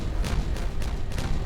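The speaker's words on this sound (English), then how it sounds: "All the explosions." Repeated explosions from the beaver colony-building video game Timberborn, dull low booms recurring every few tenths of a second, loud and steady throughout with no talking.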